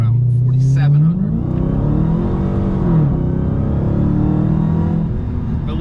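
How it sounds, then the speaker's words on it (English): A heavy Dodge Challenger Hellcat accelerating hard under full throttle, its engine note rising and sustaining as a loud, steady roar from inside the car, while a voice speaks over it. "But when you mash the throttle"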